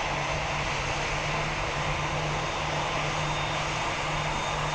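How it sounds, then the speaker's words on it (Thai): An airplane engine in a video game drones steadily and loudly throughout, a constant propeller-like roar with an underlying hum and no talking. "เราใช้เป็นเครื่องบิน"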